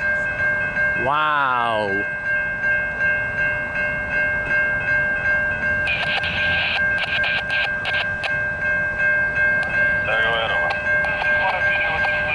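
A coal train passing a two-track railroad crossing, with steady rumbling rail noise and a crossing bell ringing throughout, a horn blast near the start and another later; a person speaks briefly.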